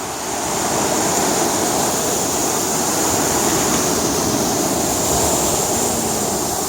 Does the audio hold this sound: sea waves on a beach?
yes